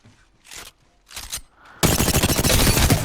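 R-301 rifle in the video game Apex Legends opens up after a couple of quieter movement sounds, a loud, rapid automatic burst of gunfire that continues without pause to the end.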